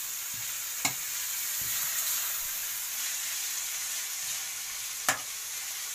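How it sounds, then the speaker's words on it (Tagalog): Pechay greens and crunchy fried tofu sizzle steadily in a pan, a constant close hiss broken by a couple of sharp utensil taps and light stirring scrapes, with no talking. "Halo-halo lang para hindi po masunog."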